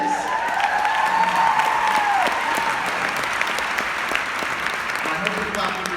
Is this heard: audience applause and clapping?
yes